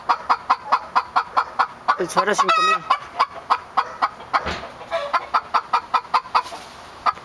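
Rapid, rhythmic clucking from hens close by, steady short pulses with a brief squawk and a voice speaking briefly in the middle.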